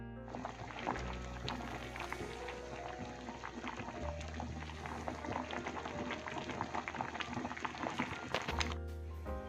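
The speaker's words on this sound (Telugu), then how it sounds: "ఇక్కడైతే బాయిల్ అవుతున్నాయి" Broad bean pieces boil in a pot of water, a steady bubbling simmer with a low rumble that continues evenly and fairly loud throughout, with no talking.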